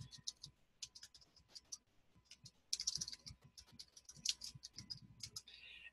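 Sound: typing an address on a computer keyboard

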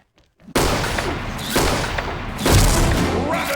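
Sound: grenade explosion in video game

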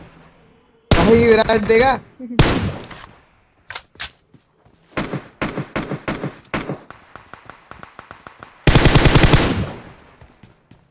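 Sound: gunfire from the video game Boom Baam Rush

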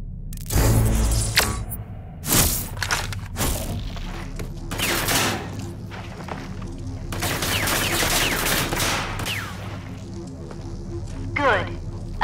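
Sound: simulated enemy gunfire in the video game Rage 2

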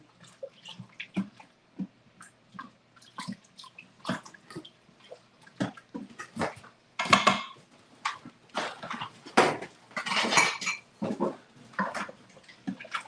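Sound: wooden spoon scraping the bottom of an Instant Pot

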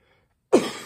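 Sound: throat clearing

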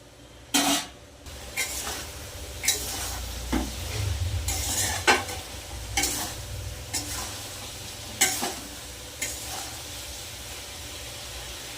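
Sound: frying and stirring spice paste (masala) in a pan

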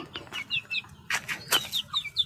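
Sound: chickens clucking and flapping

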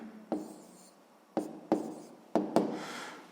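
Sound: writing down a math solution

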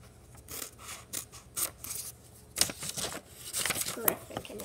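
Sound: cutting out a doll craft shape

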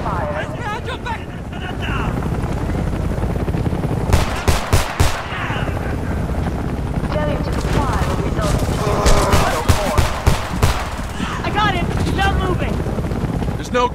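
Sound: gunfire in the video game Homefront

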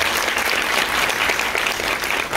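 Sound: audience applause

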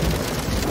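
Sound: rain sound effect played on a keyboard

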